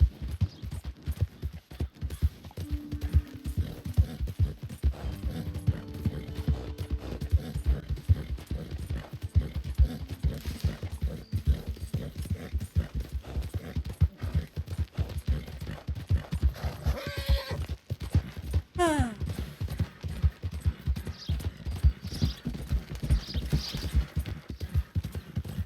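Hooves pound in a fast continuous gallop as a horse runs in Red Dead Redemption, close and loud throughout, with a whinny partway through and no speech.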